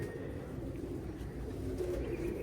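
Pigeons coo softly and steadily under a dense, constant background hum.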